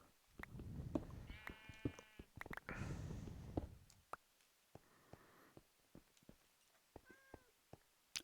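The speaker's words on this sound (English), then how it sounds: "That was a cat." A cat in the Minecraft video game gives a few short meows among soft scattered clicks and thumps of gameplay, fairly quiet overall.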